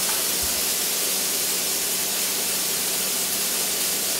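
Cooking spray hissing from a can onto a hot pan before sausage is seared, a loud, steady, continuous hiss lasting several seconds with no talk.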